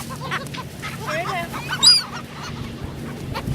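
Seagulls calling at a beach as they are fed, a string of harsh, wavering cries with one louder, sharper call rising near the middle, set against a steady outdoor background hiss.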